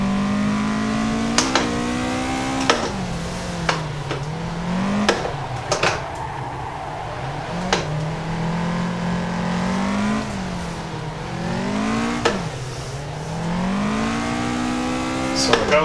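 A Toyota AE86 drifting in the racing game Assetto Corsa without the handbrake, its engine revving and wavering continuously as it swings through corners, with sharp clicks scattered throughout, loud and close.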